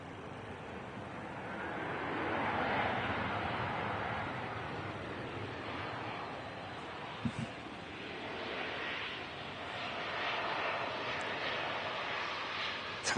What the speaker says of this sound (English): Next arrival is this EasyJet 320 from Santorini.